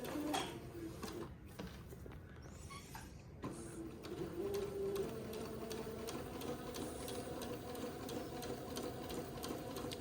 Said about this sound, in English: I'm going to go forward and backward a couple of stitches just to hold that into place.